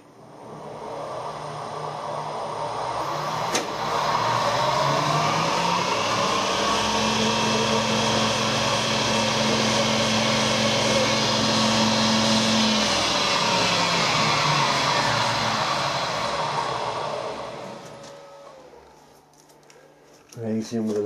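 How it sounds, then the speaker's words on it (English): A centre drill starting a hole in a vintage motorcycle oil filter part, a sustained whining grind that rises, holds steady with a tonal hum, then fades out over about eighteen seconds. "Centre drill first, just to make sure the hole starts."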